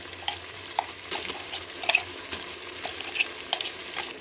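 Mutton roasted in oil sizzles softly in a pot as a masala paste is stirred in, with scattered scraping clicks of a spoon against the metal over a faint steady frying hiss.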